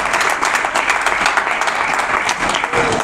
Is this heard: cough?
no